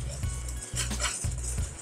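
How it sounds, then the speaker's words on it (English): Flour, baking powder and salt whisked in a bowl, a quick rhythmic scraping and tapping of a whisk against the bowl in three or four close strokes. "Just gonna whisk that."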